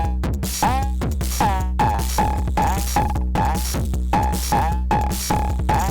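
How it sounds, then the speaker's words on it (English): A loud, distorted Cre8Audio East Beast drum machine pounds out a steady, driving beat, each hit gritty and buzzing, with no voices. "Turn on the distortion on the drum machine."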